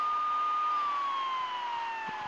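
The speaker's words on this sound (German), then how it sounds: "Wir sind die Bullen, wir haben die Sirene." A steady electronic police car siren from Grand Theft Auto III, slowly gliding downward in pitch, loud and continuous, with a faint thump near the end.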